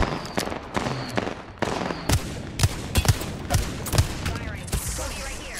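Bursts of gunfire from the video game Apex Legends crack out in sharp, irregular shots, some close together in quick pairs, loud over a background of game noise.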